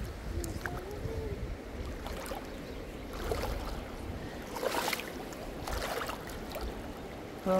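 A river flows in Romania, a continuous close wash of moving water with gentle splashes and faint background sounds throughout.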